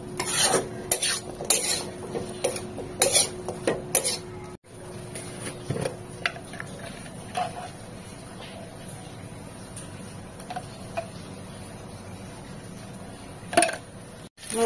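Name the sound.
stirring and mixing food in a pot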